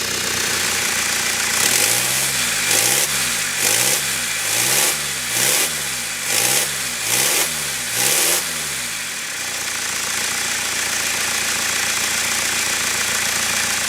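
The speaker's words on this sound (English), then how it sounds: "It's an exhaust leak and it's on the EGR cooler." A BMW engine with an exhaust leak at the EGR cooler runs close by, emitting a rhythmic series of about eight sharp chuffing pulses over a low idle before settling into a steadier drone.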